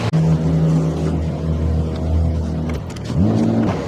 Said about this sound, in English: I'm gonna let the engines warm up a little bit